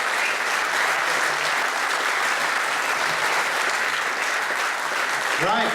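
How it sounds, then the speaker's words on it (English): An audience at an on-stage interview event gives a final round of applause, steady and full for several seconds, with a voice briefly rising near the end. "So a final round of applause for Thomas."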